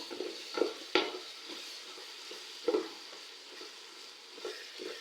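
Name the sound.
stirring and mashing tomatoes frying in pan with ladle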